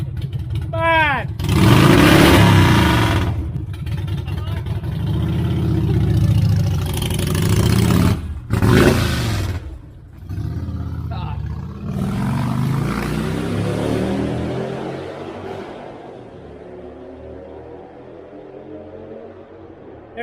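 A go-kart engine revs hard and loud during a burnout, surging and dropping in bursts, with people shouting over it before the noise fades into the distance.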